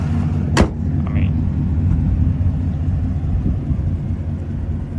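A 2016-or-later Chevrolet Camaro on the move, heard from inside the car as a steady low engine and road rumble, with a brief sharp click near the start.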